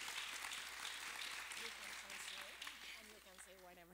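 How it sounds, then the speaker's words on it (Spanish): A crowd claps steadily in a sustained round of applause, with people speaking over it as the clapping carries on toward the end. "les damos un aplauso y les decimos bienvenidos a México"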